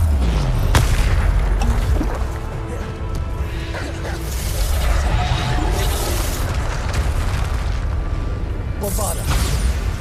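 Bombarda explosion spells boom repeatedly in Hogwarts Legacy combat, heavy crashing blasts layered over a continuous dense rumble of battle effects, with a voice calling out now and then.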